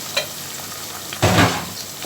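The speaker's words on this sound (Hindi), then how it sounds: "अब मैं इसमें डाल दूँगी प्याज, मैंने स्लाइस की है।" Sliced onion dropping into hot oil for a leftover-roti curry, with a short burst of loud sizzling and stirring after a quiet start, close by with no talking.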